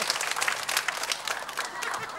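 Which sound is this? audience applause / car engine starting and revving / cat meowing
audience applause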